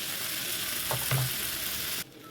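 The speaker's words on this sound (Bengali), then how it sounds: "এবারে আমি কেটে রাখা দুটো পেঁয়াজ আমি এর মধ্যে দিয়ে দিলাম" Chopped onions fry in a pan alongside potatoes, a steady soft sizzle with a brief stirring scrape in the middle, the sizzle dropping sharply near the end.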